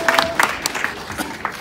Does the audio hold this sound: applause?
yes